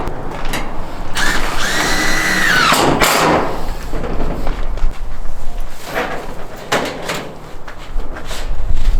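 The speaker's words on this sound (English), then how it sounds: "Putting up the last few screws for this last panel we're putting on the top." A power drill drives screws into a metal roof panel of a shed framed with electrical conduit, whining in short bursts with knocks and clatter close by, no talking.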